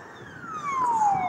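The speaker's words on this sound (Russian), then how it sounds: "Вот там скорая помощь." Ambulance siren on a street in Yakutsk, heard as one long falling wail that grows louder toward the end over steady street background noise.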